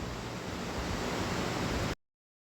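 Khichuri of rice, mixed lentils, cauliflower and potato boils hard in a pot, making a dense, steady, close bubbling hiss that stays loud for about two seconds before cutting off abruptly. No one speaks.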